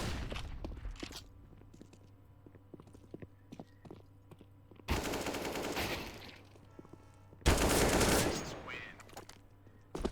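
Shotgun blasts in a first-person video game: two loud, dense bursts of roughly two seconds each stand out over quieter game noise and scattered clicks.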